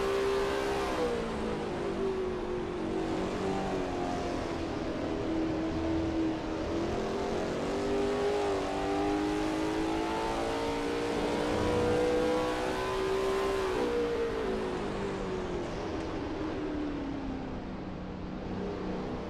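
A Lola T70 MkII Spyder race car engine in a racing video game at Spa, a steady, loud, droning roar with rising and falling pitch as it accelerates and lifts through corners, heard alone.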